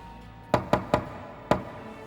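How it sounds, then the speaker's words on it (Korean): Four sharp knocks on a door in a radio drama set a rhythmic pattern, three quick knocks followed by a pause and one more, close and clear over a quiet background. "그때 다시 노크 소리가 들려오기 시작했다"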